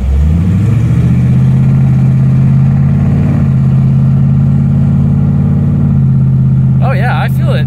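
A Ford Mustang engine idles close by with a steady, even low hum, after a brief rev at the start; a voice cuts in faintly near the end.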